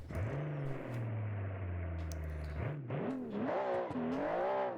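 A swapped car engine in BeamNG revs in a synthetic, game-like tone, holding a steady drone before dipping and climbing through several rising and falling revs.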